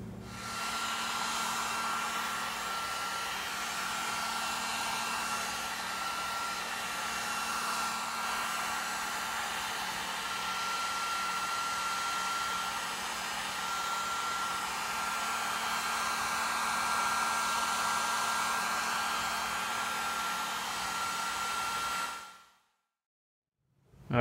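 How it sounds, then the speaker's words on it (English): A heat gun blows steadily on plastic sheet to soften it so it folds over a square edge, forming a bend for a homemade rear diffuser; the close, continuous whoosh with a faint whine runs unbroken until it cuts off near the end. "So we are gonna come in now with the heat gun."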